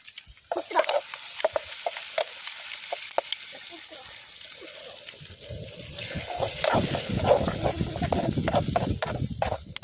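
Egg poured into a hot pan for a homemade egg burger, starting with scattered clicks and taps, then a rising crackling sizzle of frying that swells and stays loud, close up, with a voice speaking over it.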